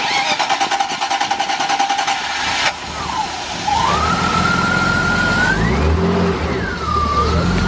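A freshly installed engine in a drift car nicknamed the Cheeto runs steadily, with a rising and falling whine over the rumble as it is revved, loud and close, with people talking over it.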